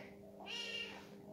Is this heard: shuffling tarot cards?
no